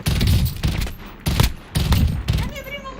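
Rapid bursts of heavy gunfire in a shooter video game come in four or five loud volleys with short gaps between them, ending in a fainter ringing tail.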